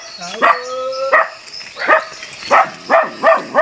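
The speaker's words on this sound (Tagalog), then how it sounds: "Yan, may aso. May gwardyang aso." A guard dog barks loudly and close, a few sharp barks and yips followed by a quick run of rhythmic barks.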